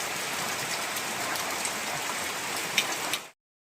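Steady, dense monsoon rain of the Konkan Shravan season pouring down with a constant hiss, close and loud, ending abruptly.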